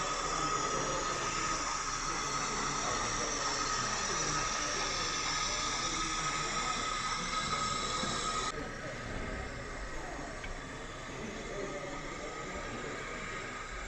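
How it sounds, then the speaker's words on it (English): A model railway locomotive runs along the layout track at a model railway exhibition, a steady whirring hum with faint background chatter that drops slightly in level partway through. "Let's catch the loco movement."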